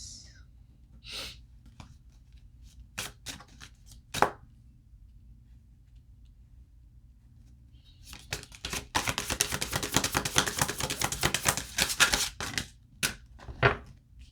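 Tarot cards being pulled from a deck and handled, with a few sharp isolated card snaps early on, then a dense run of rapid shuffling and riffling clicks, close up and fairly loud.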